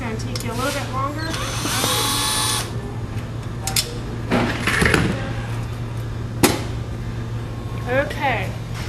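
A power screwdriver backs screws out of a bar stool being re-covered, giving several short whirring bursts of the motor, close and fairly loud, with pauses between them and a steady low hum underneath.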